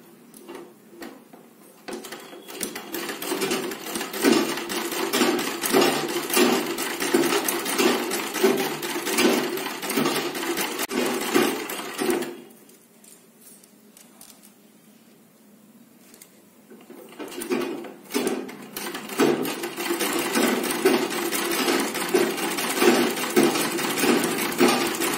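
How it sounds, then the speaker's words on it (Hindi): A sewing machine runs fast and steadily as it stitches lace onto the net of a designer blouse. It stops for a few seconds midway and then starts again, with its rapid whirring clatter close and continuous. "लेस और नेट की मैम पक्की सिलाई कर दूं?"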